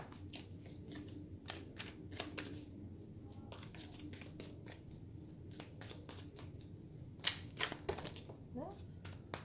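Tarot cards are shuffled close by in soft, rapid riffles and flicks with a few sharper snaps. Someone talks quietly in the background.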